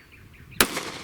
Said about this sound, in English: let's see what the 9mm handgun does